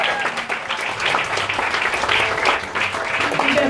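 Live concert crowd applauding for an opening band, a loud, dense burst of many people clapping and cheering for nearly four seconds, heard close with a few shouts rising through it.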